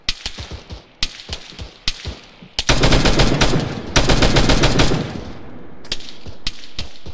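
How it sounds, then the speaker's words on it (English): Automatic gunfire crackles in ARMA 3 during platoon training on Bozcaada: scattered sharp shots, then a long loud sustained burst of rapid machine-gun fire, followed by more spaced single shots. "there's somebody shooting at us from the west"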